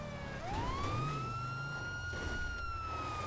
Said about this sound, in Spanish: Pon ahí las sirenas y todo.